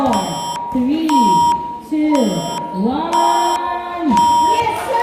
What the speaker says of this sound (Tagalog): Buzzer beater.